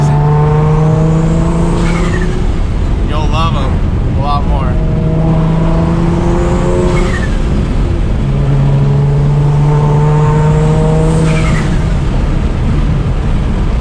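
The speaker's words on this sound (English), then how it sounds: "Man, this car runs like a champ" A 600+ hp turbocharged Nissan 350Z with a stock motor driving through a canyon, engine droning loud and steady with repeated rising pulls and shifts, someone talking briefly over it.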